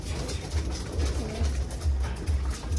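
Hungry breeder pigeons and their chicks coo in soft, repeated low calls, close by and fairly loud, under a steady background hum.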